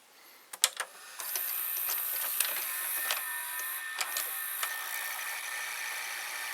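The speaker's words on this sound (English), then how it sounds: "let's put the tape in the Magnasonic VCR. It has a separate loading motor" A Magnasonic VCR's separate tape loading motor starts after a few mechanical clicks of the tape going in, then whirs steadily at close range with intermittent small clicks and ticks from the mechanism.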